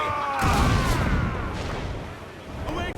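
Ship cannons firing in Assassin's Creed IV: Black Flag, heavy booms and a rumbling broadside during a naval battle, loud and dense with crashing debris, while a voice shouts briefly near the end.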